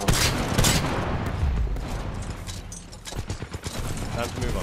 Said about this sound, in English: All I'm doing is just firing softballs into it.